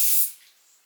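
A hairspray can sprays onto the roots of freshly curled hair, a single loud, close hiss lasting a fraction of a second before tapering off.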